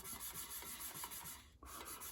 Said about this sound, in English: wet sandpaper, and I'm going to just sand over the top to thin that line down